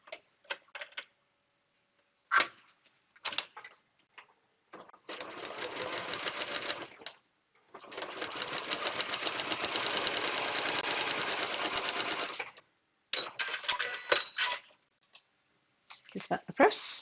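A sewing machine stitches fabric along a marked line in bursts of fast rhythmic ticking, including one long steady run, with short pauses between, close up.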